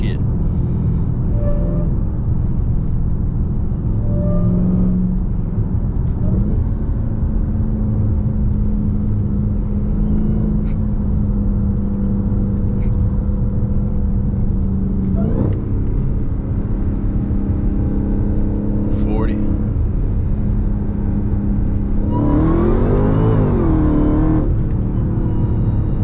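A Dodge Hellcat accelerating hard in first gear, its engine a loud, sustained rumble and roar with rising and shifting pitch, heard from inside the car while someone talks over it.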